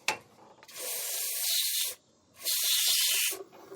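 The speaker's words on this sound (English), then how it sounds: "I'll try to clean it out with some brake cleaner." Brake cleaner sprayed at a fuel line nut on a Jeep with an AMC 360 V-8, two loud hissing aerosol bursts of about a second each, separated by a brief pause, close up and with no talking.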